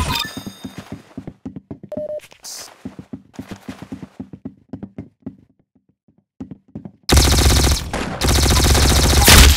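A run of sharp, evenly spaced clicks and knocks gives way to loud, rapid bursts of gunfire that fill the last few seconds, close and harsh, with no talk.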